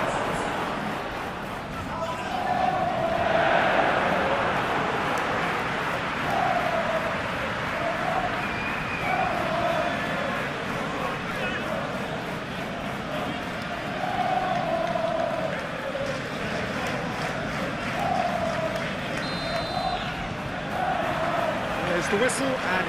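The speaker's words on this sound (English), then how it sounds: "a capacity crowd here." A capacity crowd fills a stadium during a Premier League match between Leicester City and Everton in eFootball 2022, giving a steady, loud roar with rising and falling swells of chanting throughout.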